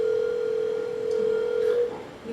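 An outgoing phone call rings on the line, a steady electronic telephone ringback tone sounding loud and clear for about two seconds before breaking off, with no voices over it.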